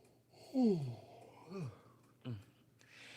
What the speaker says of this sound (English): here come another yawn